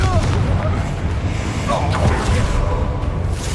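Spell explosions in the video game Hogwarts Legacy, fired in a fast combat exchange: dense, loud booming blasts and whooshes rolling together over a few seconds, with voices shouting over them.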